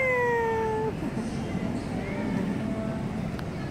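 A cat meows loudly and close at the start in one drawn-out, falling call, followed by fainter meows over steady outdoor street noise.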